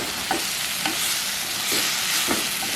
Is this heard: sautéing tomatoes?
yes